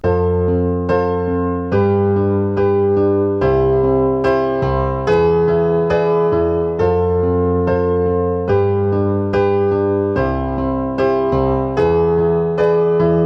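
A 1970s pop-song chorus on piano, left-hand octaves under right-hand chords, played in a steady, even rhythm of loud, close strikes with no voice over them.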